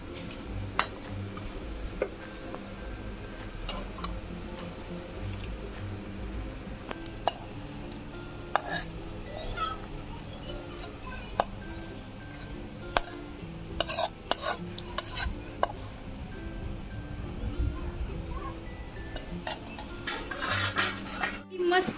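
Cooked masala okra (bhendi) is scraped and lifted out of a pan, with metal spatula clinks, scrapes and knocks against cookware, intermittent and close, over a low steady background hum.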